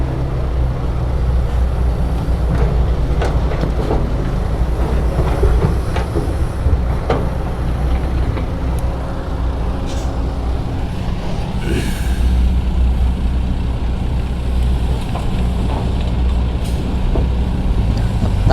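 Ten-wheel dump trucks pull away at a dusty airport runway construction site, a steady heavy diesel rumble filling the whole stretch with faint rattles and hiss on top, no voices breaking through.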